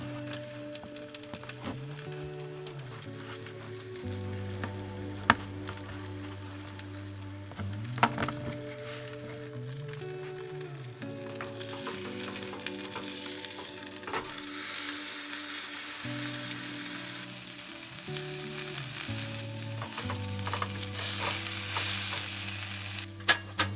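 A steak sizzles in a frying pan inside a camper van, a steady crackling hiss throughout with a low tonal hum running underneath and a couple of sharp knocks, growing slightly louder toward the end.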